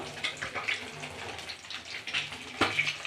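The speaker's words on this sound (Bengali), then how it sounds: "যে সিমের জলটা আমি ফেলে দিচ্ছি" Water being squeezed and drained from boiled flat beans, a soft splashing, trickling pour with a few louder spills, close and fairly faint, no talking.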